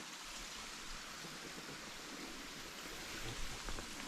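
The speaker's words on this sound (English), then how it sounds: "This is a little side stream and the main stream's just down here." Small mountain side stream flowing near a rock slide in a bluffed-in gully, a steady close rush of water filling the whole clip with no voices.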